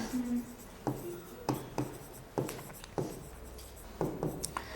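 Chalk or marker strokes on a classroom board, a series of sharp taps and short scraping strokes in an uneven rhythm, fairly close, with faint room noise between.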